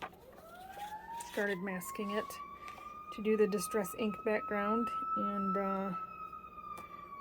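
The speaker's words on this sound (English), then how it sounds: "pardon the sirens, the fire department is right across the street." Fire department sirens from the station across the street wail in a long rising, sustained tone at moderate distance, with someone talking over them.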